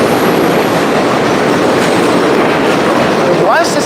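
A New York City subway train roars past up close, with a loud, continuous rumble and rail clatter and a rising metallic wheel squeal near the end.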